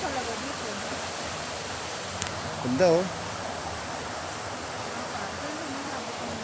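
Clear stream water flows over a natural bed with a constant, even rushing wash close by, and a voice briefly exclaims partway through.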